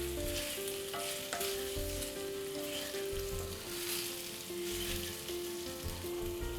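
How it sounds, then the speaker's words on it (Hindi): Taro root coated in spices sizzles steadily as it roasts in a pan, a continuous close frying hiss with faint stirring. "ये अरबी देखिए मसालों के साथ अच्छे से कोट हो गई है, भुन रही है।"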